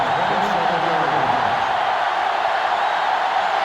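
A roaring stadium crowd at a college football game between USC and Tennessee in the video game NCAA Football 2005 makes a loud, unbroken wash of noise throughout.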